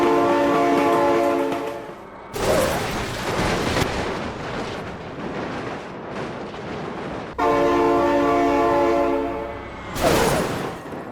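A train horn blares loudly in the BeamNG.drive driving game, sounding in two long sustained blasts with rumbling rail and crash noise between them.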